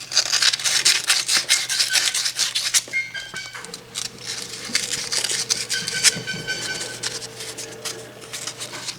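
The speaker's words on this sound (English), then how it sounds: "some 220 grit sandpaper. Just give these posts a quick wipe." Sandpaper of 220 grit rubs briskly over the posts of Williams pinball score reels, close and raspy in rapid back-and-forth strokes, then easing into quieter scrubbing with faint mechanical squeaks.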